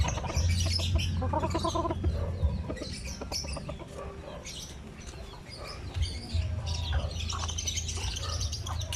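A hen clucks repeatedly among other chickens and chirping birds, with a busy, noisy farmyard background throughout.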